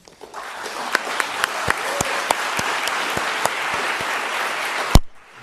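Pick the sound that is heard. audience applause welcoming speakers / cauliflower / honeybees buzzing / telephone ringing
audience applause welcoming speakers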